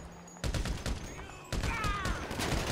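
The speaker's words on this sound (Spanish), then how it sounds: "me están disparando por el otro lado" Gunfire in the video game GTA V Online: rapid, dense bursts of automatic shots in two close, loud volleys, separated by a brief pause, with no voices.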